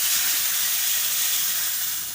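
A tadka of mustard seeds, methi seeds, asafoetida and turmeric in hot oil for Gujarati dal gives a continuous loud, close hiss, an even spitting sizzle with no breaks.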